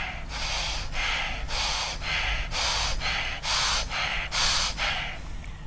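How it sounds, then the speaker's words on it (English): During a yoga breathing exercise, a person takes deep, forceful breaths in and out in an even rhythm, about a dozen close, loud breath strokes with no talking. "That's the breathing"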